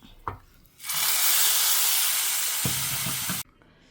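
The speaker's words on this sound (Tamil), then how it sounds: "கடுகு ஜீரகம் கருவேப்பிலை பெருங்காயம் எல்லாம் தாளித்து கொட்டிடலாம்" Mustard seeds, cumin, curry leaves and asafoetida hit hot oil for tempering, bursting into a loud, hissing sizzle that holds for about three seconds and then stops abruptly, with a small clunk before it starts.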